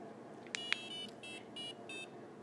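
Short, faint electronic beeps from a LilyPad Arduino buzzer after a button click: two sharp chirps followed by several brief tones in a quick, uneven sequence over a low background hiss.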